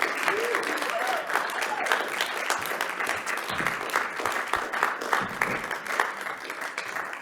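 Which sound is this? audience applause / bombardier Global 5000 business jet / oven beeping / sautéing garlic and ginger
audience applause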